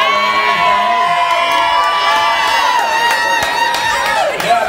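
A bar crowd cheers and whoops loudly and steadily, with shrill voices and shouting layered over a dense roar that stays close and continuous throughout.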